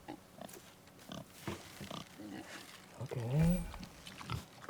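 Wild boar in the God of War game, a few deep guttural grunts and one louder snorting squeal near the end, mixed with people talking and brief game noises.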